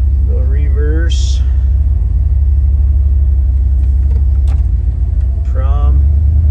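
1997 Chevy 1500 pickup truck reversing, a loud low engine rumble idling steadily throughout, with someone talking briefly over it at the start and end.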